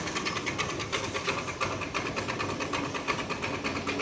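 Engine of a faulty vehicle whose wheels won't move when the accelerator is pressed: a close, steady, rapid chugging hum that runs evenly throughout with a fast pulsing rhythm.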